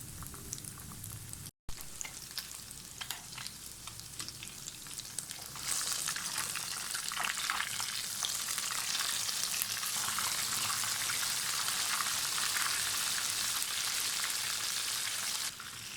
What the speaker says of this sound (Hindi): मीडियम फ्लेम के ऊपर हम इनको फ्राई कर लेंगे।